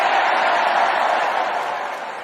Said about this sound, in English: A bunch of people clapping